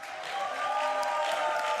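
Crowd cheering and clapping at a live speedrun charity marathon event, a steady broad wash of applause and cheers that swells slightly and holds throughout, heard from a distance in a large hall.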